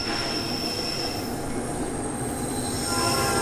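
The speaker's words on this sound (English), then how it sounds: "We'll wait for this train to go." A freight train rumbles past close by with wheels squealing in high, sustained tones over a constant heavy roar of railcars.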